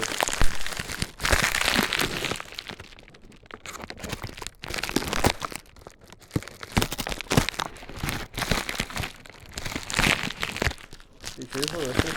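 Knife slicing and tearing open plastic packaging around a new DualShock 3 controller, a continuous close crinkling and crunching that runs throughout, with someone talking over it.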